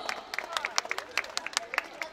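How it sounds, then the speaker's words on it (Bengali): An audience claps for a child receiving a prize at a school prize ceremony, a brief, fairly distant ripple of scattered handclaps with a murmur of crowd noise underneath. "আমরা একটু জোরে করতালি দিব"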